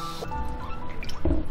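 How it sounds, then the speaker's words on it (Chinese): Starch-coated pork ribs are rinsed in clear water, giving soft close-up drips, splashes and wet squishing as the meat is worked in the liquid. "再用清水泡洗几遍，这样子就能比较好的洗去它的血水"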